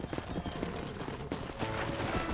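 Horse hooves clip-clopping in the Western video game Red Dead Redemption on PS5, a quick irregular run of near hoofbeats over low ambient game sound, with a faint whinny-like tone.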